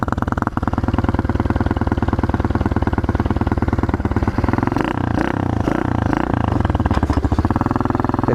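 A pit bike motorcycle engine fires up on the first kick and settles into a loud, steady, rapid-pulsing idle with some mechanical clatter, close and continuous throughout.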